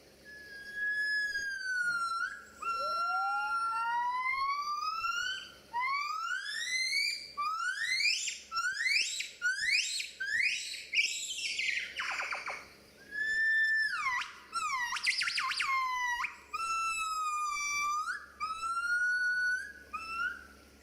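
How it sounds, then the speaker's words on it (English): Rising, looping whoops and wails trade back and forth in long phrases, bright and fairly loud, a mated pair of gibbons duetting over a low background hum. "Mated gibbons will duet with each other across the rainforest using changes of tone and rhythm"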